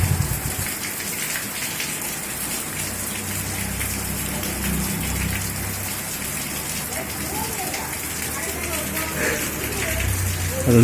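Steady rain falls outdoors in a continuous hissing wash with a low, watery rumble underneath, holding at an even, moderate level throughout.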